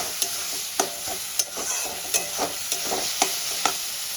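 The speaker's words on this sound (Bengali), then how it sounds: "আমি ভালো করে কষিয়ে নেব।" Dhaba-style pav bhaji masala sautéed in a pan, a steady close sizzle punctuated by rhythmic spatula scrapes roughly every half second, loud and continuous with no talking.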